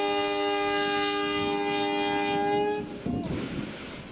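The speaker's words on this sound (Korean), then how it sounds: "무궁화호 열차가 기적을 울리며 서서히 움직입니다" A Mugunghwa passenger train on the Donghae Line sounds a long, loud multi-tone horn at its opening ceremony, the blast held steady for nearly three seconds before cutting off into the rumble and clatter of the train starting to move.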